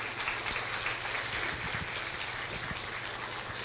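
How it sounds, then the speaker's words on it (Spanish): Wedding guests clapping at a reception, a soft, steady patter of applause with a low hum underneath, fairly distant and even throughout. "Dele un aplauso, hermano."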